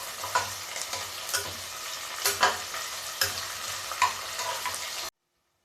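Mustard seeds and arhar dal sizzle in a hot pan for sambar while being stirred, with soft scraping strokes in a steady rhythm over constant frying crackle; the sound cuts off abruptly near the end.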